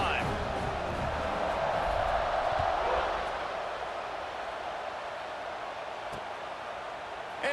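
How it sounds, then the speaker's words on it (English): A stadium crowd roars during a Tennessee college football game in College Football 26: a dense, steady wash of cheering that swells over the first few seconds, then settles into a lower, sustained rumble. "this crowd is feeling themselves after that last drive"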